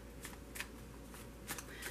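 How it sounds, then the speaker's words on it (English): A tarot deck is shuffled quietly with several short papery riffles in quick bursts, faint and close, with no talking. "I have pre-shuffled this deck, so I'm only going to shuffle it for a moment."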